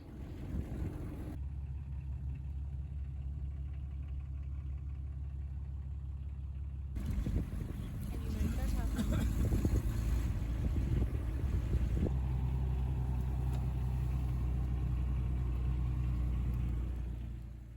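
A 4x4 vehicle on an afternoon game drive in Savuti, Botswana, its engine a steady low rumble with wind buffeting the microphone, growing louder and rougher partway through, with no talking.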